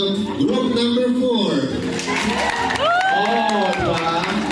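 Classroom applause and cheering for group number 4, with a crowd clapping and shouting alongside a loud, gliding voice over the din.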